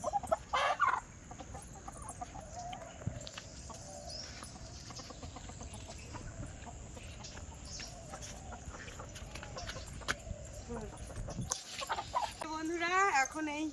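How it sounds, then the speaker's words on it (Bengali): A rooster clucks and calls repeatedly at a moderate distance while a person talks over it, and a louder crow-like burst comes near the end. "ওই মোরগটা ডাকাডাকি করছে।"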